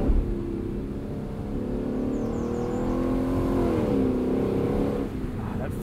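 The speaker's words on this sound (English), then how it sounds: "first gear blip is just a treat" A 2022 Lexus LC 500 Convertible in first gear gives a throttle blip, its engine note swelling and falling over a steady drone of cruising and wind noise.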